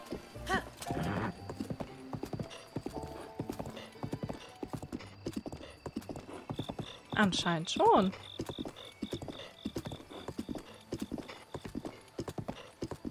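Horse hooves clip-clopping at a steady galloping rhythm in the video game Zelda: Breath of the Wild, close and continuous, with a short neigh midway and a person talking briefly over it.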